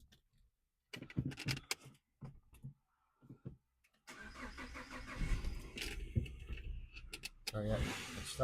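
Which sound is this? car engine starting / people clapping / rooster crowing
car engine starting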